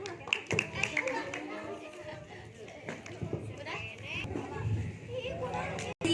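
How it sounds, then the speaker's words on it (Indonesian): Scattered claps from a crowd of children and adults at an Isra Mi'raj commemoration at the MDT Ar Rohmah Cikopo madrasa, uneven and fairly close, mixed with children's chatter and movement noise. "Tepuk tangan"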